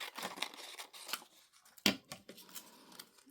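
Scissors snipping through a paper tag, a series of close, quiet crisp cuts with one louder sharp snip partway through and no talk.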